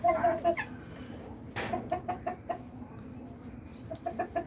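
Pigeons at a nest they are building, giving repeated soft cooing and clucking calls in short bursts, close by, with faint rustling between calls.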